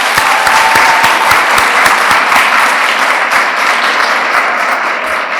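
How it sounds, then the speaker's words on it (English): Sustained applause from a large audience honoring graduates at a school's first graduation ceremony at Atlantis The Palm in Dubai, dense steady clapping filling the hall throughout with no voices over it. "we just want to make sure that we give a round of applause for all of our graduates who aren't here with us today"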